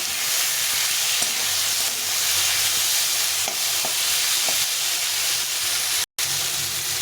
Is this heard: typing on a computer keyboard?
no